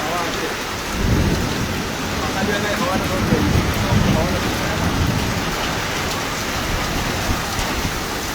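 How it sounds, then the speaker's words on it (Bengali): Heavy rain pours down steadily in a dense, hissing roar in Rupnarayanpur, with low rumbles of thunder rolling underneath. "প্রচণ্ড বৃষ্টি বৃষ্টির তেজ"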